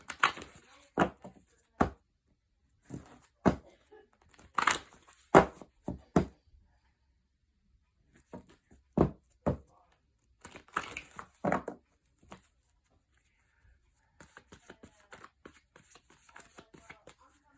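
Tarot cards being shuffled in repeated bursts of crisp riffling and snapping, with short pauses between, close by and fairly quiet.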